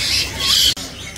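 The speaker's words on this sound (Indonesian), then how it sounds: "Ini ada burung hijau yang gacoran ya." A leafbird's sharp, high squawking calls in two quick bursts, close and fairly loud.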